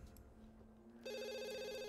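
A telephone rings in the video game The Sims 2, a steady electronic ringtone starting about halfway through and continuing loud and even over faint game background sound.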